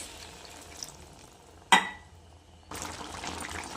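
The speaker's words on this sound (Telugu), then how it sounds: "ఇప్పుడు కొంచెం వాటర్ వేసుకోవాలి" Water poured into a pan of brinjal curry cooking with spice powders and tomato: a short sharp splash, a quieter lull, then a steady close hiss and sizzle rising from the pan.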